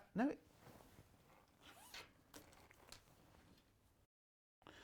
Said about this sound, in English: Oh, it's an open-ended zip.